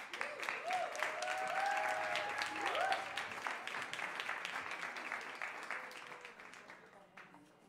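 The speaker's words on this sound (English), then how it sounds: "please big applause to Daniela Serna." A crowd applauds steadily, clapping loud at first and then slowly fading, with some voices and cheering mixed in near the start.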